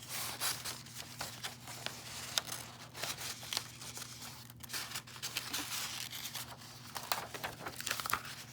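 Sheets of colored paper, orange and yellow among them, being handled and stacked beneath a cover to form a small booklet, giving a steady close crinkling and rustling with brief sharper crackles and no talk.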